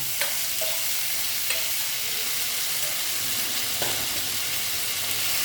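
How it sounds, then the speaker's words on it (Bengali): Pointed gourd (potol) fries in a pan for a vegetarian dish, producing a constant dense sizzle with a few soft clinks and stirring sounds. "পটলগুলো আমি দিয়ে দিচ্ছি"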